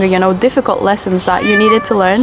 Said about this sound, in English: My cat Minnie just appeared on the rooftop.